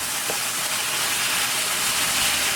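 Beef and broccoli steam in a hot pan with the heat turned down, giving a steady, even hiss that runs unbroken from start to finish.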